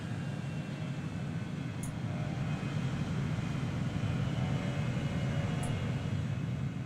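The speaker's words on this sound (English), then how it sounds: "Taxiing." Steady low drone of an airplane taxiing in the Transport Fever 2 game, a continuous engine rumble at an even level with faint brief high ticks, no talk.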